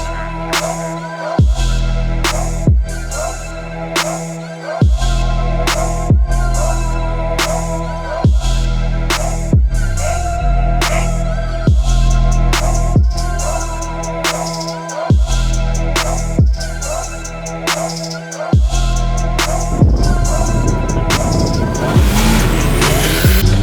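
Old Moskvich car accelerating hard in a street race against a BMW M4, a loud engine revving through repeated gear changes with sharp breaks between pulls, faint talk underneath.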